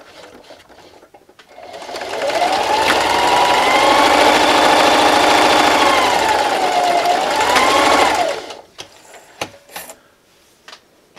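A sewing machine stitching and backstitching a fabric treat bag, a steady fast motor whir running for several seconds alone, then stopping with a few small handling clicks.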